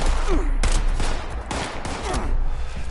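Rapid gunfire from a weapon in the video game Fallout 76, several close, loud bursts of shots cracking in quick succession over a few seconds, with no talking over it.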